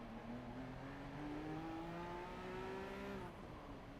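A Lexus race car in Gran Turismo Sport at Tsukuba draws closer, its engine note climbing steadily as it revs up, then easing off near the end with a brief shift, loud and continuous with no talk.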